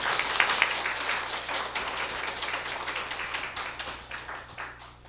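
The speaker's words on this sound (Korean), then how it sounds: "하나님께 영광의 박수 올려드리겠습니다." A church congregation applauding during a Sunday service, a full burst of many hands clapping that swells early and then gradually tapers off over a few seconds.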